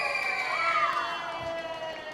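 Crowd at a youth sheep show cheering and shouting for a young contestant, a steady mix of many voices with some children's shouts, moderately loud throughout a short burst.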